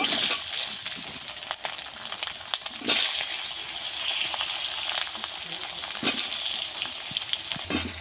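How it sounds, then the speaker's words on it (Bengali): Potatoes sizzling loudly in hot oil with a little turmeric in a pan, a continuous bright crackle with a few bursts as they are stirred. "হলুদ গুঁড়ো অল্প করে দিয়ে দেব আলুগুলো ভেজে নেব"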